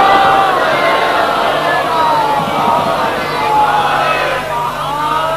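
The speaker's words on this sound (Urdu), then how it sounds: "اتنی ہی بلند صلوات سارا مجمع مل کر محمد آل محمد پڑھو" A large religious gathering chants salawat together in unison, a loud sustained crowd roar of many voices filling the whole stretch with steady intensity.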